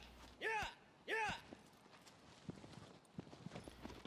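A horse in the video game Shadow of the Colossus clip-clops with a few soft, spaced hoof falls, while two short loud vocal bursts and other game noise sit over it.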